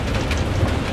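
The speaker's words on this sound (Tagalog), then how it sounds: "Grabe yung ulan." Heavy rain pours down at the Three Natural Bridges site in Wulong, a dense, steady, close hiss that fills the moment without any voices.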